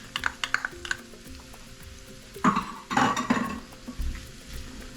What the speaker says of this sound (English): Let me just let this go for a while. Let that saute.